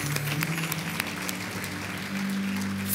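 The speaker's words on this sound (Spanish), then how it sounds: "Un aplauso a nuestro Dios, que lo honre." Congregation applause at a Spanish-language church service, a steady wash of clapping from many hands that fills the room for the full three seconds, with a low musical drone underneath.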